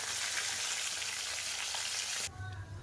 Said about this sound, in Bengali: বাকি মাছগুলোকেও একইভাবে ভাজা করে নেব।